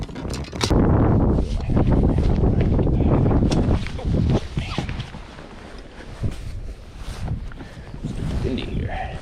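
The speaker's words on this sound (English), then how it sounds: "Windy here." Gusty wind buffets the microphone out on the water during spring bass fishing from a boat, a loud steady roar in the first few seconds that eases into softer gusts, with people talking over it.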